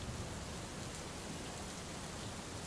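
Heavy, steady rain lashes down in a dense, unbroken wash of hiss and patter, loud and close with no pauses, and no voices over it.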